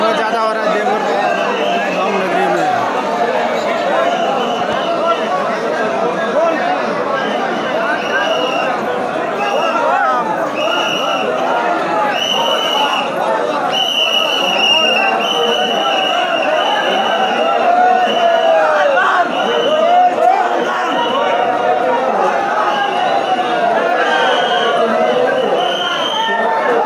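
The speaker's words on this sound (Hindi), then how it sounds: "देखते हैं कितना ज्यादा भीड़, क्योंकि बहुत ज्यादा हल्ला हो रहा है" A dense, loud crowd of kanwariya pilgrims packs Baba Dham during the Sawan Monday gathering, a steady roar of overlapping voices and chatter with no break, close and all around.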